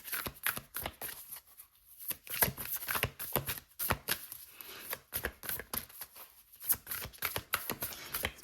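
Isis Oracle deck cards are shuffled and drawn, producing close, quiet bursts of riffling and flicking paper that come in irregular clusters separated by short pauses.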